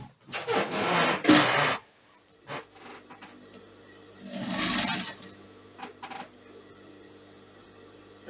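A sewing machine stitches elastic onto a dolman-style kimono jacket, running in two bursts of rapid mechanical whirring separated by quieter pauses with small clicks and handling sounds, fairly close and clear, with no talking.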